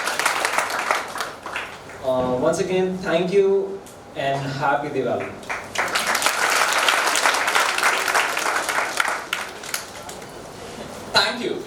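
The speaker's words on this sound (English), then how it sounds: "Special round of applause for them." Audience applause at a foundation's annual day event in a college hall, a speaker's amplified voice first, then sustained clapping from a large crowd rising and continuing for several seconds, fairly loud and close.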